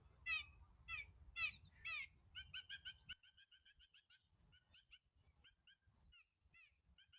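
Magpies calling outdoors, faint and somewhat distant: bursts of harsh chattering notes at first, then a quicker run of short repeated chirps.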